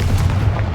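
A Confringo fire-blast spell explodes in the Hogwarts Legacy video game, a short, loud, dense boom with heavy low rumble that fills the whole moment.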